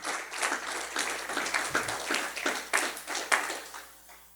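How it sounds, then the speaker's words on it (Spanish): A church congregation applauds in praise during a Spanish-language service, a steady wash of clapping with irregular louder bursts over about four seconds, mid-distance and fairly full. "denle aplauso al Señor."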